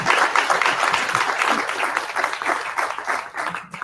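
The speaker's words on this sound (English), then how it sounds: "let's hear it for our esteemed panel members." Conference audience applauding panel members at an AI public listening session, a full room of hands clapping in a thick, continuous roar with slight surges and dips, ending with a brief tail-off.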